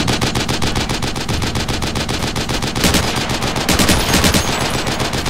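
Automatic gunfire in Project Reality: rapid, evenly spaced machine-gun bursts, loud and close, running without a break, with louder overlapping shots near the end.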